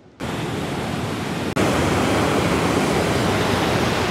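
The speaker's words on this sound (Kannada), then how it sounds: "ಅವಾಗ ಇನ್ನೂ ಫಾಸ್ಟ್ ಆಗಿ ಹೋಗ್ತಾ ಇದೆ ನೀರು" Water rushes loudly and steadily from opened dam gates, a dense, constant roar that swells after a brief dip and stays close and unbroken.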